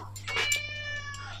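A single drawn-out cat meow, fairly close and clear, over a steady low hum, during a MacAllister HP46 lawnmower repair.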